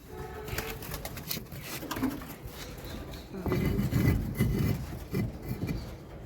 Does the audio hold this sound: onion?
no